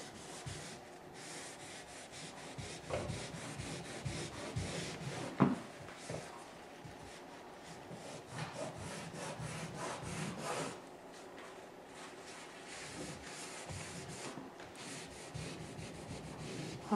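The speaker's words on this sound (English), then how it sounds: "Okay, now I need to go back to my wet rag." A wet rag rubs across a painted wooden picture frame in steady, faint scrubbing strokes, with occasional light knocks and no one talking.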